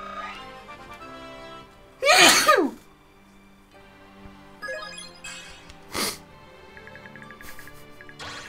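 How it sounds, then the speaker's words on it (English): One loud, close human sneeze bursts out, followed by a quieter throaty sound and soft electronic tones in the background. "I sneeze like Dante Sengoku."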